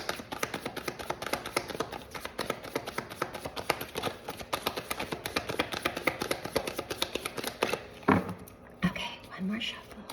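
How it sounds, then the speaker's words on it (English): Rapid, crisp tarot card riffling and shuffling repeats in quick bursts, close to the microphone, with soft handling noises toward the end. "I'm gonna shuffle 2 more times"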